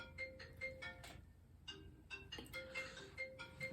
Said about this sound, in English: I have to take this phone call.